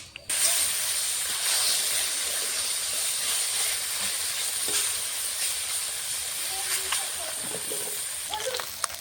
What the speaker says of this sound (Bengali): বাকি মাছগুলো এইভাবে ভেজে নেব।